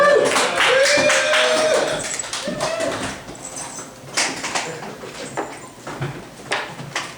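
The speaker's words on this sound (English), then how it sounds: "give them a round of applause." Audience applause at a live stage show, a dense burst of clapping with some whoops and voices mixed in, loud at first and then thinning and wavering.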